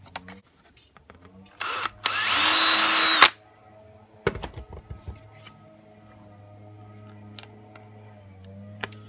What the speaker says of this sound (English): drill that out a little bit bigger.